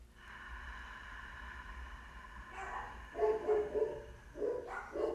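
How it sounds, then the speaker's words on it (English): Dogs bark outdoors a short way off during a breathing meditation session, a few sharp barks in quick clusters toward the end after a quieter stretch of steady background hum. "There goes the dogs again."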